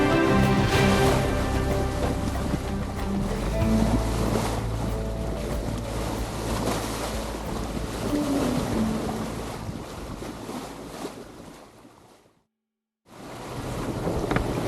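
A sailboat motoring through sea waves, a constant close engine drone mixed with wash and rushing water, loud and unbroken until a brief dropout near the end.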